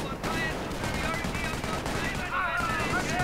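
Sustained machine gun fire in a World War trench-warfare strategy game, dense and continuous battle noise under a voice talking throughout.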